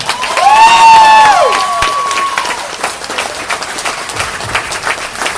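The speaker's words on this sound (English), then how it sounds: "could I put our hands together for another round of applause for Dietmar Hamann?" An audience at a Singapore fan event with former footballer Dietmar Hamann bursts into applause and cheering after an interview, lively crowd clapping with shouts and a loud whistle-like cry early on, then steady clapping that slowly tapers.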